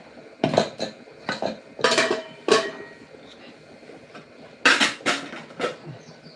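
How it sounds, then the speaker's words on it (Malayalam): Masala curry is ladled onto rice on a plate, heard as a series of clinking metal ladle and dish knocks in irregular bursts, close and moderately loud against a quiet background. "മസാലക്കറി ഒഴിക്കാം"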